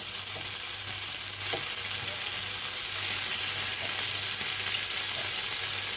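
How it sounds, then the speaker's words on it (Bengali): Chicken pakoras fry in hot oil with a loud, steady, crackling sizzle that runs without a break and has no voices over it. "পকোড়াগুলোও ভাজা হয়ে গিয়েছে দেখতেই পাচ্ছ"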